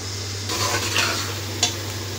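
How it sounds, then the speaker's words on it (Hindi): Onions frying and being stirred in a pan for a homemade mutton biryani, a soft steady sizzle with a few scraping stirs and one brief clink of the utensil against the pan. "व्यूअर्स, प्याज फ्राई हो चुके हैं।"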